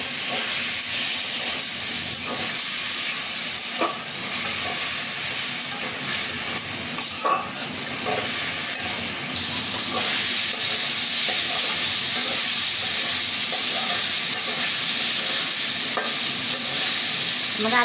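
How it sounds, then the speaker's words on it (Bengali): Potatoes with ginger, garlic, turmeric, chili powder and salt sizzle and fry in a pan with a little water, a continuous loud hiss with occasional stirring scrapes, no talking. "আমি একটু পানি দিয়ে আবার সুন্দর করে কষিয়ে নেব।"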